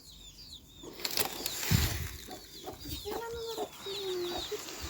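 Chickens cluck and call in a coop, with a rooster-like cry and some wing flapping amid birdsong in the background.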